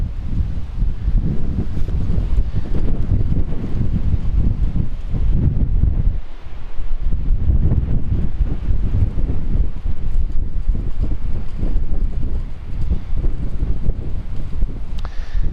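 A strong headwind topping 20 miles an hour batters an outdoor microphone during a drone wind test, roaring in loud, continuous low gusts with brief dips, and no voices.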